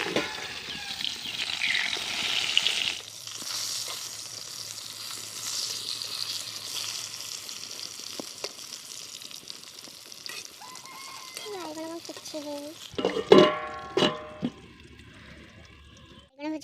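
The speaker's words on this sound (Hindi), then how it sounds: "मु तीनटा पीस माछ भाजुची" Three pieces of fish frying in a pan in a home kitchen, a soft steady sizzle running throughout with occasional clinks and a brief louder clatter, with some speech over it.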